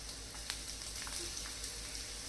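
Chopped garlic frying in a pan over a low flame gives a steady, soft sizzle with faint crackles throughout, close by and alone.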